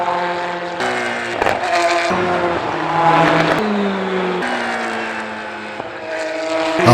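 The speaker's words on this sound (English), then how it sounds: "the ideal location to watch the cars come down the Indianapolis Straight before entering into the Porsche Curves themselves" Race cars at the Le Mans 24-hour race scream down the Indianapolis Straight, several engines passing in turn with their pitch dropping as each goes by, loud and continuous with no talk.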